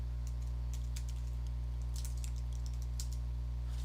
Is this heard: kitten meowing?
no